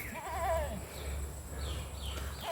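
A large Beetal cross goat, a nanny with month-old kids, gives a quavering bleat early on, then soft higher calls follow faintly over a low steady rumble.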